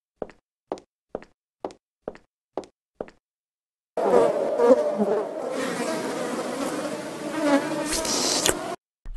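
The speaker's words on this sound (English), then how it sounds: "Little flies, I promise I'll free you." Small flies buzz in the adventure puzzle game Memoranda: after a run of seven evenly spaced short knocks comes a continuous, fairly loud insect drone lasting about five seconds, then a brief cutoff.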